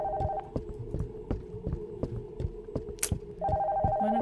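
A bell rings repeatedly inside a house at night, steady tonal rings cut by irregular knocks and thumps, fairly close and loud.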